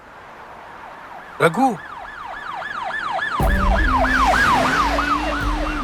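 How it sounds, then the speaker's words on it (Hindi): An ambulance siren wails in a rising and falling pattern, growing louder as a vehicle engine rumbles in, with a short burst of speech partway through. "जब मैं फोन पे बात कर रहा था तो एम्बुलेंस का आवाज सुनाई दिया।"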